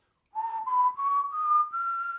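A person whistles a steady tone that steps slightly higher in about five short sustained phrases, close and clear against a silent background.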